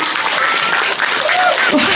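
Loud, steady applause from a crowd at a Balinese Calonarang temple performance, with voices and shouts mixed in throughout the short burst.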